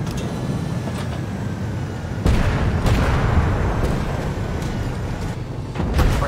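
The Object 225 tank in a video game fires its cannon in heavy, booming blasts, two close together and another a few seconds later, over a continuous engine rumble.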